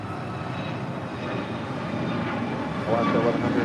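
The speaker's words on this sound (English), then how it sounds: "This is United Airlines 1278 departing to Cancun on a MAX 9" A United Airlines Boeing 737 MAX 9 jet departing LAX for Cancun, its steady engine roar holding broadband and loud throughout and swelling slightly near the end, with some speech-like murmur in the mix.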